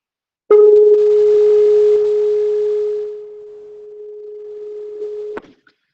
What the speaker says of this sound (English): let me play the electronic sine wave and see how the spectrum responds